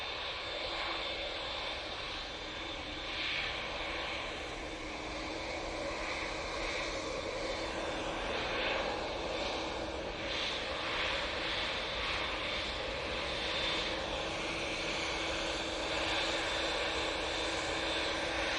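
An airliner departing Manchester Airport for Palma de Mallorca, its engines a broad continuous roar heard from a distance, steady throughout with no voices.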